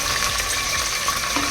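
Cashews, peanuts, chana dal and green chillies fry in hot oil, giving a steady, dense sizzle with faint stirring throughout, close and continuous.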